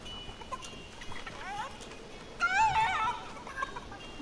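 Fortnite in-game chicken giving a few short clucks, one brief burst early and a louder, denser flurry of warbling clucks near the end, over faint game background noise.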